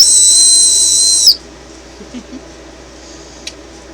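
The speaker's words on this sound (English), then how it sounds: "you can blow through the hole and it whistles." Whistle candy from a Japanese arcade-themed snack box blown through its hole, giving one sustained shrill, steady whistle for over a second, then stopping into quiet room tone with a few faint clicks.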